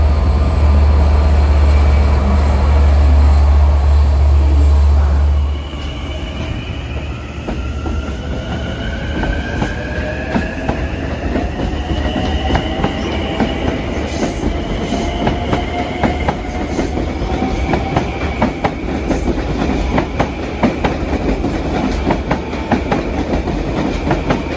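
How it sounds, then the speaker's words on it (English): A Long Island Rail Road Main Line train, number 659 from Port Jefferson to Jamaica, rumbles past loudly near Bethpage and Hicksville, with steady clickety-clack of wheels and rising metallic squeals sustained throughout. "Train 659 from Port Jeff to Jamaica at 5:34."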